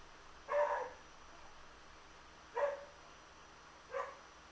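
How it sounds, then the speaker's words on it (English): Three separate dog barks from the same dog, spaced a couple of seconds apart and fairly close, over a quiet background. "If you guys hear dogs barking, just ignore that."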